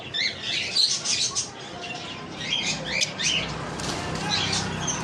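Conure parrots for sale, pairs of adult birds, giving sharp shrill squawks and chirps in bursts, close and moderately loud, over a faint background murmur.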